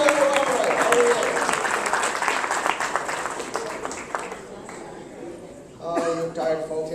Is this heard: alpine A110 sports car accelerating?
no